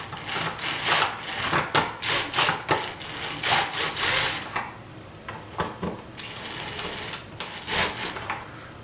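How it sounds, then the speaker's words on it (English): A power drill driving a screw whirs in short repeated bursts, with high whining pitches and brief pauses between runs, close and fairly loud. "as soon as I feel the drill tighten up even a little bit"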